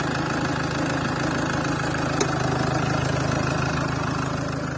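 A Mitsubishi Outlander 2.2 DI-D diesel engine idles close by, a steady, even low rumble with a fine rhythmic clatter that holds unchanged throughout, with no voices.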